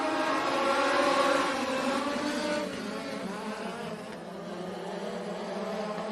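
Dirt late model race cars power up for a heat race at Benton County Speedway, a loud, sustained multi-engine drone that swells and then eases slightly as the field pulls away, with no talk.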